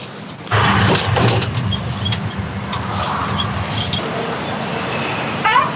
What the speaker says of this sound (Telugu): ఆటో వచ్చింది, అదేనా?